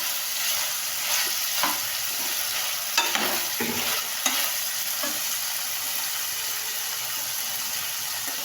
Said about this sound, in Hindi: अब हमने वेजिटेबल डाली, इसका पानी ड्राई हो जाए अच्छी तरह से।